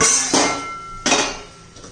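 Two close metallic clanks as a lid is set on a cooking pot while making a spicy brinjal dish, each a sharp hit with a short ringing tail.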